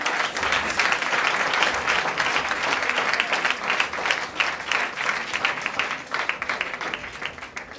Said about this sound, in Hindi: तो जोरदार तालियों से